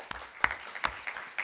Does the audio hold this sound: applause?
yes